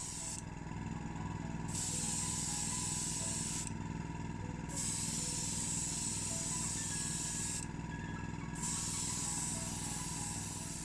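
Spray paint hissing onto a Matchbox Audi Quattro model car in three short bursts with gaps between them, over a constant background hum, close and fairly quiet.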